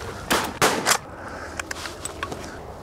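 Shotgun blasts at geese during a Jersey goose hunt: three loud, sharp shots in quick succession, followed by a few faint clicks and small knocks.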